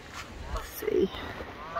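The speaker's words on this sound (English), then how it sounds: "We have got some wild geese and all their little hatchlings." A single short goose honk rises from a pond where wild geese and their goslings gather, heard at moderate distance over soft outdoor background noise.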